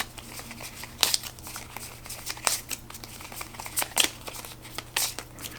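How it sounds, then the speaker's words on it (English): Paper Tales cards being shuffled by hand at close range: a run of soft riffling, rustling bursts with sharper snaps around every second, with no talk. "Now I shuffle these."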